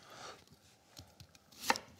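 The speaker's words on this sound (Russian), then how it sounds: "Вот ты можешь порезать мне лук, сейчас, как ты умеешь?" A knife finely chopping onion on a board, a few quiet scattered cuts followed by one sharper, louder chop near the end, close by with no speech.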